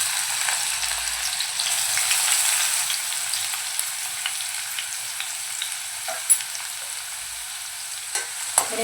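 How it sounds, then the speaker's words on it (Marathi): Green chili pieces and finely chopped onion frying in hot oil, a steady close hiss and crackle of sizzling with occasional soft pops throughout. "आता त्यामध्ये हिरव्या मिरचीचे तुकडे आणि बारीक चिरलेला कांदा घालूया।"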